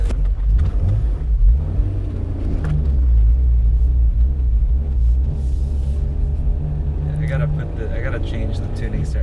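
A BMW M5's engine and induction noise make a deep, steady rumble while driving, with someone talking over it inside the car.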